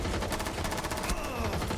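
Rapid gunfire from a Rainbow Six Siege match, a burst of repeated shots fired through a wall, dense and loud throughout with background game noise and no clear pauses.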